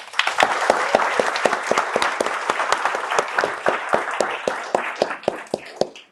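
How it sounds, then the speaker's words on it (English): Audience applause at a panel event in Minnesota on democracy and politics, crisp individual claps standing out over a dense steady round of hand clapping that stays loud throughout, then thins toward the end. "please join me in giving one more round of applause"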